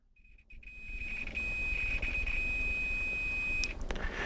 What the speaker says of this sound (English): the tester beeps, which means we have an electrical contact